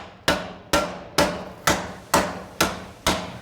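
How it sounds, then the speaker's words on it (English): Hammer blows on sheet metal being stretched and flattened for a fire-breathing dragon head sculpture: seven sharp, ringing strikes land close by at a steady, even rhythm, each fading briefly before the next. "hammering it back here, it actually pulls this and tightens it up."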